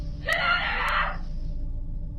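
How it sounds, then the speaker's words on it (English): A girl screams from inside a house, picked up by a doorbell camera at night: one sharp, shrill scream of about a second over a low background hum, then the hum alone. "the obvious screams from the girl inside as she notices the men at the door"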